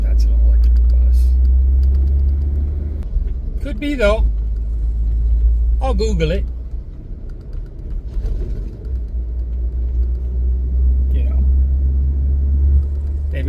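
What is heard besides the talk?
diesel engine of a big truck idling nearby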